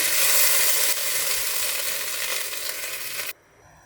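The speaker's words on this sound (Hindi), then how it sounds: "बस इसका तड़का फिर हम कड़ी में डालेंगे" Hot red chili tadka tempering poured into kadhi, giving a loud, steady sizzle that fades slightly before cutting off abruptly near the end, with no talking.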